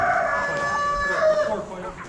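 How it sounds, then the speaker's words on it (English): Holstein chickens and roosters crow and cluck nearby in a pen, with one clear crow rising and falling over soft background clucking, fairly faint. "Holstein chickens."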